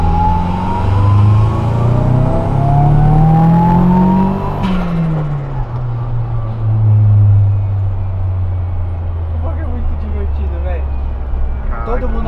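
VW Kombi van fitted with a 300 hp Audi S3 engine accelerating hard, the engine note climbing through rising gears with a sharp shift midway, loud and close from inside, while people talk in Portuguese.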